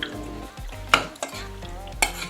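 Chowmein with black pepper, Guyanese Chinese sauce and cashew being stirred in a hot pan, a steady sizzle under a few clanks of a utensil scraping the metal, loud and close.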